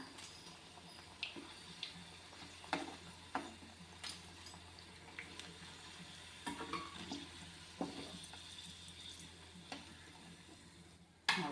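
Capsicum bondas frying in hot oil, a faint, steady sizzle broken by scattered clinks and stirring as pieces are added and turned. No voices.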